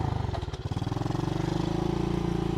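An SSR110 Chinese pit bike engine runs steadily and loudly up close, with a fast, even pulsing throb and a brief dip in pitch early on, and no talking.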